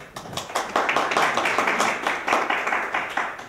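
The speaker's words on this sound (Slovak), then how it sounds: "To bol potlesk za emotívny prejav." Audience applause after an emotional speech in a Slovak televised discussion on the Ukraine crisis, a dense, steady clapping that holds at moderate loudness for several seconds.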